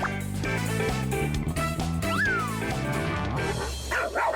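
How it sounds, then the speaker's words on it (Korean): A small dog in a city park yaps repeatedly in excited barks at a goose, over a steady, droning background. "녀석의 등장에 놀란 강아지"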